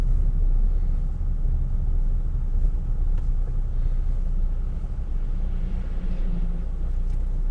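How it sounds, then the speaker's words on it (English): A delivery truck passing in town traffic on the road from Hythe to Folkestone, a loud, steady low engine rumble that stays close and continuous throughout. "delivery truck coming by, taking a lot of space"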